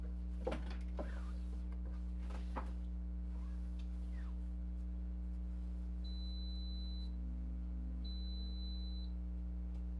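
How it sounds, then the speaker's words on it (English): Two identical high electronic beeps, each about a second long, sound from an appliance during a fabric bag sewing session, following a few faint knocks over a steady low electrical hum. "You'll hear this beep, and that'll be mostly the signal that I will hopefully be back with lining"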